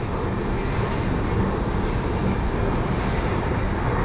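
Steady low rumble of a passing tram or metro train in Sofia, loud and continuous for a few seconds, with no voices.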